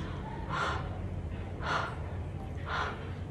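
Someone takes three deep, sharp inhales through the nose, sniffing the scent of body oil, evenly spaced about a second apart and close up against a low steady background hum.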